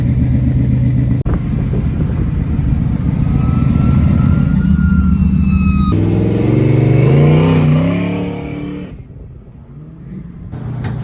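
A 1965 Pontiac Catalina drag car drones loudly from inside the cab while cruising, its engine holding a steady rumble with some rising revs before easing off. The sound gets quieter near the end.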